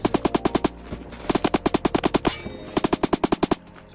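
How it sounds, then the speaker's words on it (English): An LMG machine gun in the video game Phantom Forces fires three loud, rapid bursts of evenly spaced shots with brief pauses between them, close and punchy with no talking. "It's just a really cracked LMG that no one wants to use."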